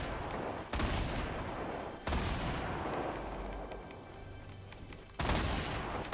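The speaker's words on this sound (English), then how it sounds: "They're shooting grenades." Gunfire and grenade blasts in a Fortnite match: sharp, loud bursts of shots with sudden explosive onsets around one, two and five seconds, over continuous rattling battle noise, no talk.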